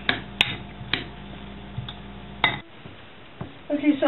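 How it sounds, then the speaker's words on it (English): A spoon clinks a few times against a bowl while vinegar and salt are stirred together, sharp light taps near the start and middle, then a quieter stretch before a faint rattle at the end. "We're just going to mix this together."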